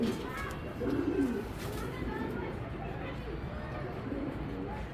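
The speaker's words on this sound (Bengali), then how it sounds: "ইনশাআল্লাহ আপনার লাইফের সবচেয়ে সেরা একটা কবুতর হবে এটা" A racing pigeon hen from a foreign bloodline, kept for sale by a breeder, gives soft, repeated low cooing close by, with a faint murmur of voices in the background.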